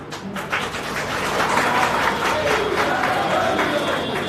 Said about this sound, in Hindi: आप लोग तालियां बजा रहे हैं